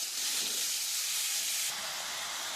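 Cut bottle gourd hits hot oil tempered with cumin, dry chilli and bay leaf, setting off a loud, close, steam-heavy hiss that holds steady, then eases slightly toward the end, with no voices.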